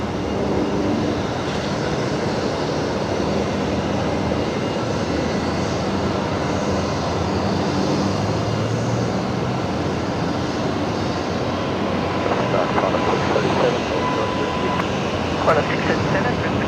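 Aircraft rumble steadily near Brisbane Airport, a broad continuous engine roar holding through the whole stretch, with a voice talking over it at times.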